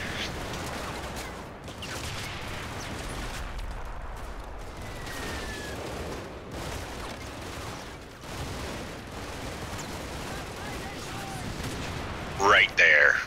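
Heavy German flak gun or flak wagon autocannon fire in the Combat Mission: Fire & Rubble wargame, a dense continuous rumble of gunfire and distant impacts lasting throughout, with a couple of louder bursts near the end.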